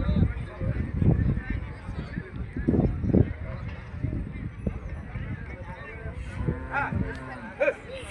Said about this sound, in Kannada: ಎಲ್ಲ ಥರದ ಆಕಳುಗಳು ಬರ್ತಾವೆ ಇಲ್ಲಿ ಗದಗ ಜಾನುವಾರು ಮಾರುಕಟ್ಟೆಗೆ